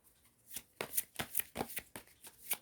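A Sai Baba oracle card deck being shuffled by hand, a close, quiet run of crisp riffles and slaps in an uneven rhythm, with no talking.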